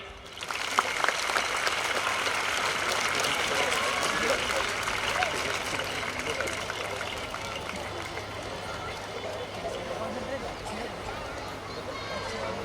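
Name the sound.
audience applause at a school gathering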